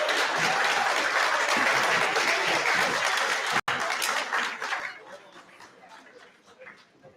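Audience applause at a graduation ceremony, a loud, dense wash of clapping that holds steady for several seconds, then thins and fades into scattered claps, with voices faintly mixed in.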